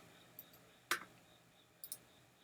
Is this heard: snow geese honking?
no